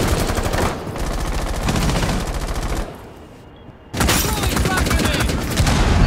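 Sustained automatic gunfire rattles in the tactical shooter Rainbow Six Siege, loud rapid bursts broken by a short quieter pause before firing resumes, with players talking underneath.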